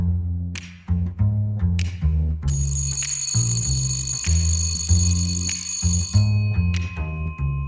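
A school's electric bell rings out for morning assembly, a long loud sustained metallic ring lasting several seconds amid a steady low musical backdrop, with short bursts at start and end.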